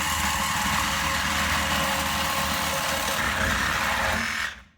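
A power tool cuts through a rusted tailpipe under a 1994 Chevy K1500, a steady, loud, high-pitched grinding whine that holds without a break for several seconds before cutting off abruptly at the end.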